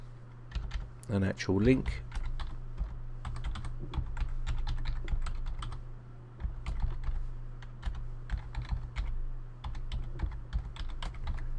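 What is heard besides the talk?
typing on a computer keyboard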